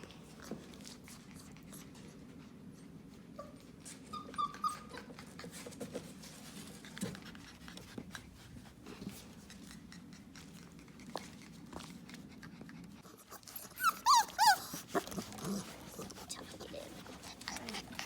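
Tiny puppies give thin, high whimpers and cries, sparse at first then a cluster of louder whines toward the end, close by under soft rustling and occasional quiet talk.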